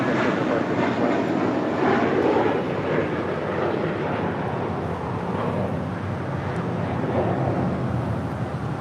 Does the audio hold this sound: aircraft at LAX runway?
yes